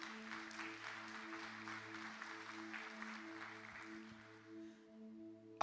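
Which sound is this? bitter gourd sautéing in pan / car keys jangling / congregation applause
congregation applause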